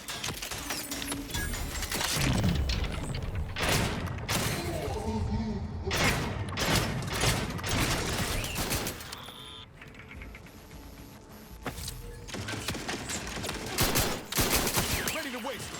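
Gunfire in the video game Outer Worlds 2: bursts of sharp shots and rapid volleys, some close and loud, broken by brief quieter gaps, with voices now and then.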